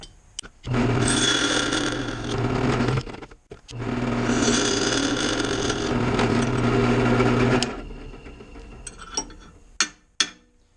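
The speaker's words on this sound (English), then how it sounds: "let's jump back over to the drill press and we'll get this close to finished up" A drill press drilling metal gives a loud motorized whine with a high grinding edge in two long bursts separated by a brief pause, then winds down into a few sharp clanks.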